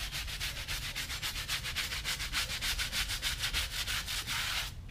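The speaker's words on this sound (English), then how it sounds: "It'll be interesting to see if I can scrub some dirt out of the fronts." Rhythmic scrubbing of dirty front wheels on a 2018 Dodge Charger Scat Pack, the brush rubbing back and forth in a steady fast stroke, close and fairly loud, with no talking.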